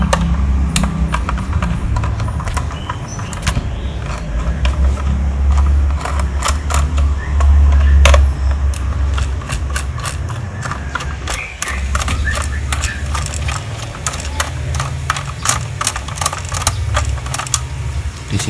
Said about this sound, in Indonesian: Iki multitesternya langsung dibongkar-bongkar loh teman-teman